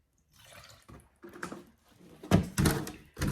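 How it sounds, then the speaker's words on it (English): Milk being poured into hoe cake batter, a few close liquid splashes and drips in short bursts, growing louder toward the end. "And then we're gonna add some milk."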